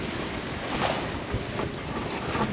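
Sailboat heeling along under autopilot-free wind steering, its hull rushing through waves with a constant wash of water and gusting wind buffeting close to the microphone.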